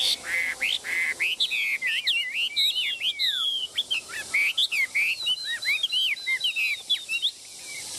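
A songbird sings loudly and close, a rapid series of bright whistled chirps and trills that keep going almost without pause.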